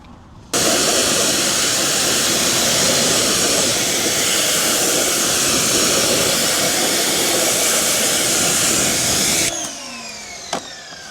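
A high-pressure water spray rinses the wheels of a brand-new BMW X5 in a loud, steady, close hiss that runs unbroken for about nine seconds, then cuts off, leaving faint dripping and light clatter.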